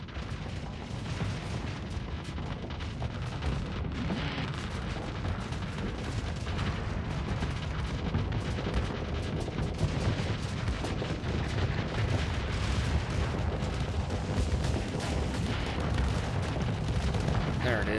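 Ship weapons in the space game Starsector pound a space station, a dense continuous barrage of booming shots and rumbling impacts at moderate level.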